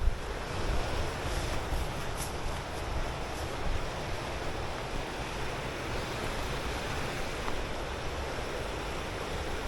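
Rushing water from waterfalls and a stream at Aber Falls in Snowdonia, Wales, a steady dense roar filling the whole stretch without talk.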